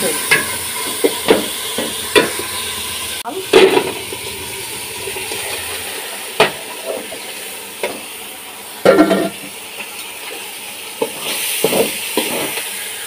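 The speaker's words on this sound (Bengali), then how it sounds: "তো এটা এখন ভাজা ভাজা করে নেব" Khichuri being sautéed and fried in a pan, with repeated stirring scrapes and a steady sizzle running through, punctuated by a few louder clatters of the spoon against the pan, close and without talk.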